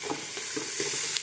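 Tempering of mustard seeds, cumin and onions sizzles steadily in a pan for okra stew, a close continuous frying hiss with light stirring clicks and no voices.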